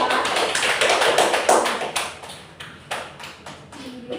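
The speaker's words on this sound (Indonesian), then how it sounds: "Oke, beri tepuk tangannya untuk kelompok 2." A classroom applauds a student group after their presentation, a burst of many hands clapping that is dense at first and thins into scattered claps, close and fairly loud.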